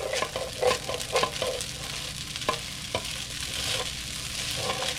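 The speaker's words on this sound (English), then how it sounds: "we're start mixing everything together" Vegetables, including carrot, being stirred and tossed in a frying pan, with steady sizzling and repeated scraping and clattering strokes, close and even throughout.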